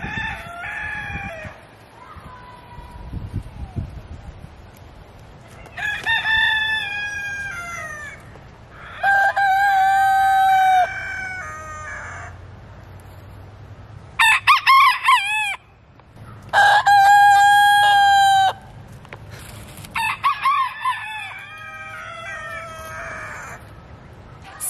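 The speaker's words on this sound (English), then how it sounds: "as you can probably hear, I have a lot of commotion in my garden right now, and those are all of my chickens" Backyard chickens in an end-of-season November garden in Northeast Ohio cluck and crow loudly and close, with several long crowing calls and excited clucking bursts overlapping through the stretch.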